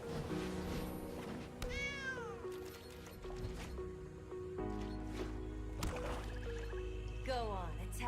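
Cartoonish cat meows from the Sanctuary Cat card in the digital card game Magic Arena, several rising and falling meows over game music and effects, with a voice talking throughout.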